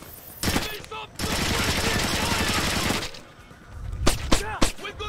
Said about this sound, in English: We got incoming fire!